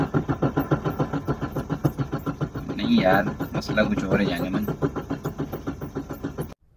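A car engine cranks over and over in a steady rapid rhythm without catching, struggling to start because of a faulty fuel pump, while someone talks over the cranking close by.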